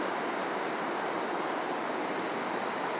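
A westbound Union Pacific intermodal freight train passes in Sacramento, California, a loud, close, steady broadband roar of rolling cars with no talking.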